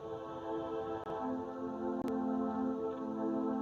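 A soft string section is equalized so its high frequencies are cut off, leaving a muffled, sustained chord that holds steadily at low volume.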